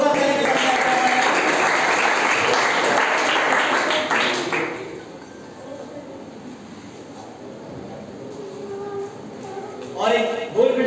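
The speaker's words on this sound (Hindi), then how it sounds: "जोरदार तालियों के साथ" A crowd claps and applauds loudly for several seconds at an award distribution program, fades away, then a short burst of clapping returns at the end alongside talking.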